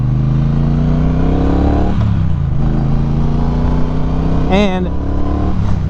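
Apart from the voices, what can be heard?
Triumph Bonneville Speedmaster 1200cc parallel twin engine revving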